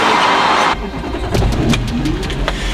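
A Duramax diesel pickup engine runs loud and close, a steady mid-range drone that dips briefly, then picks back up with rough revving surges.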